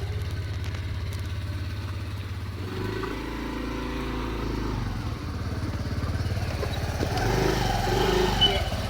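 A motorcycle engine runs close by, idling steadily with a deep rumble that shifts and rises around the middle and again near the end as it revs, with faint voices in the background.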